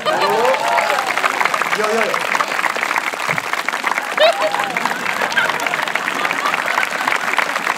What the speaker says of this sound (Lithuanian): Ir mes visi plojam.